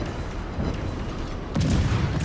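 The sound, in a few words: naval cannon salvos in World of Warships video game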